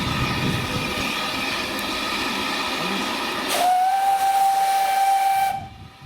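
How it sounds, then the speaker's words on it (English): The whistle of LBSCR H2 steam locomotive Beachy Head blows a single sustained, shrill tone for about two seconds over a background of hissing steam and rumbling machinery. "Good thing the whistle's not too loud."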